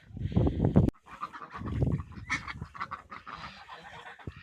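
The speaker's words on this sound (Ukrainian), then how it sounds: "Качечки собі ходять." Ducks wandering around a rural farmyard outdoors, giving a series of close, loud, irregular quacking calls, some overlapping, with short pauses between them.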